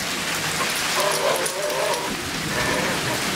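Steady rain falls on an outdoor surface, a dense, even hiss that holds throughout at a close, moderately loud level, with no talk over it.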